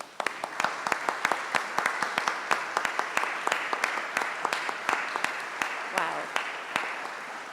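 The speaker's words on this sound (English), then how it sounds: "give you the applause that you've earned" Graduates at a class of 2018 graduation ceremony receive steady applause from the audience, sustained clapping filling the whole clip without speech.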